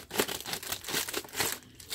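A plastic packaging bag from an online shop delivery crinkles and tears as it is pulled open, a close, continuous rustle with sharper crackling bursts throughout.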